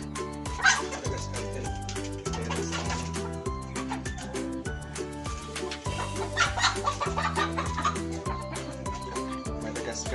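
Free-range hens, a Madagascar hen among them, cluck and call on a farm with a rooster-like voice mixed in, layered over steady rhythmic background music that runs throughout.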